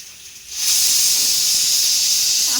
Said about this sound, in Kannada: cooker ಕೂಗ್ತೈತೆ guys